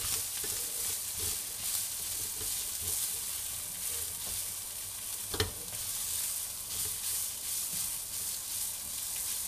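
Beef chilli frying in a hot pan as it is stirred, a steady close sizzle with soft spoon scrapes throughout and one sharper clink midway.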